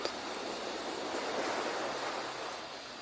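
Ocean surf washes onto the shore in a soft, continuous hiss that swells and recedes gently, distant and faint, with no voices present.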